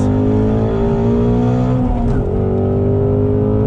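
A 2020 Ford Shelby GT500 accelerates through a bend on a race track with a loud, close, continuous engine roar whose pitch dips and shifts midway.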